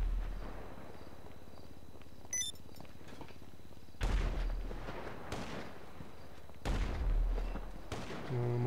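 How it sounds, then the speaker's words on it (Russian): Several sharp gunshots in GTA Online go off a second or so apart, each with a booming tail, against a quiet background hum and a brief electronic beep. "один выстрел есть в Номада"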